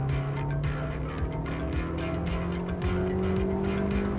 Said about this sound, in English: you do hear that CVT, that engine strain sound a lot more in the Hyundai Verna